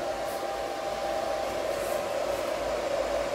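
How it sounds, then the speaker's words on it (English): A running 3 hp solar BLDC submersible pump motor drive, made in India, gives off a constant, even electrical whine with a steady hum over soft background hiss. "Motor is now on running condition."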